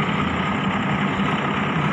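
Express train 109, Bangkok Apiwat to Chiang Mai, powering up as it approaches Chum Saeng station, a steady, loud low engine rumble that holds constant throughout with no voices.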